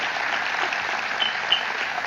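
Applause from an audience as steady, even clapping fills a short stretch with no voices over it.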